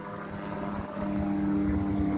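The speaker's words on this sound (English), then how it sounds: "That was kind of a quick shot of that plane going by" A propeller plane passes overhead in the Lake Harney Wilderness Area of Florida, a low steady droning hum that swells slightly louder as it goes by, heard faintly outdoors with no talking.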